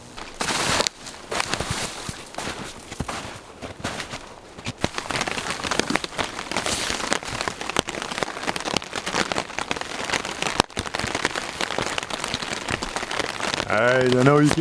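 Steady, heavy rain pours down outdoors on a winter day, a dense continuous patter on surfaces, with someone talking over it.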